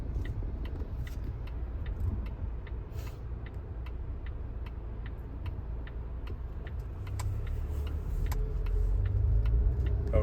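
Volvo XC90 T5 SUV accelerating on a road in Miami, Florida, a steady low engine drone heard from inside the cabin that builds slightly toward the end, with faint ticking over it.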